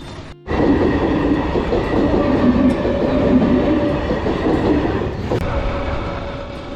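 A train rumbles steadily past a railway level crossing at close range, a loud continuous roar of wheels on track with faint clattering, lasting throughout after a brief quiet start.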